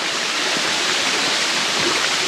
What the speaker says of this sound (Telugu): ఈ వాటర్ ఫాల్ మాత్రం మనతో వస్తూనే ఉంది